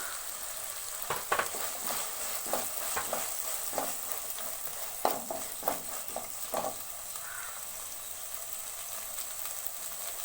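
Prawns and tomatoes fry in a pan for Andhra-style prawn fry, a steady close sizzle with repeated scraping stirs and clinks of a spoon throughout, no voices.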